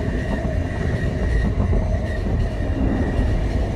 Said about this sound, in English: That made the train stop.